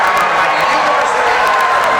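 A large crowd cheers and roars steadily at the NCAA wrestling championships in an arena, a dense, loud wash of voices with no pause.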